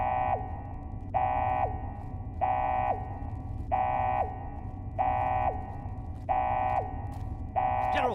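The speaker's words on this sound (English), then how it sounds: "This better not be another false alarm." A base alarm in the video game Fallout: The Frontier blares in seven repeating electronic tones, each about half a second long and roughly a second apart, loud over a humming background with no talk.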